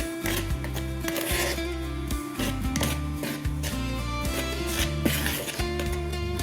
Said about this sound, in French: Je mélange le tout avec une cuillère.